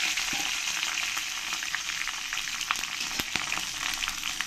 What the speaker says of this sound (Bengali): এবার আমি আলু ভাজা তেলের মধ্যে দিয়ে দেবো কিছু গোটা মশলা, শুকনো লঙ্কা, তেজপাতা